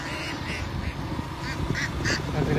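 Ducks quack in a rural Assamese village beside tea gardens, with several bright, nasal calls in short clusters over a steady outdoor background.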